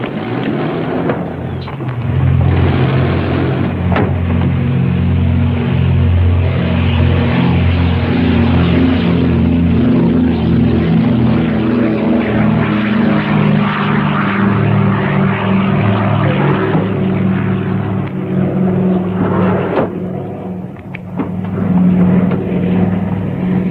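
Propeller airplane in flight, a loud continuous engine drone with a steady low throb holding for over twenty seconds, dipping slightly near the end before resuming.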